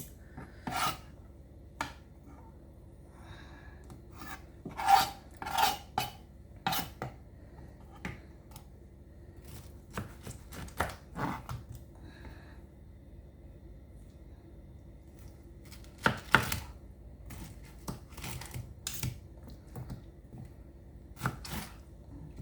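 A knife peels and slices a pineapple in a series of scattered rasping cuts and scrapes, some louder strokes standing out against a quiet background, with no talk.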